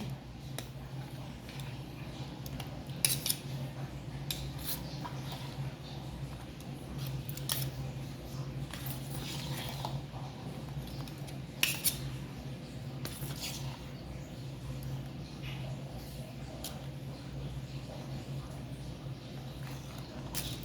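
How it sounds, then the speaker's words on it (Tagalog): Buko salad being stirred in a bowl, with steady soft scraping and brief clicks of the utensil against the bowl continuing throughout over a low background hum. "Yan, hinahalo na namin yung aming boko salad."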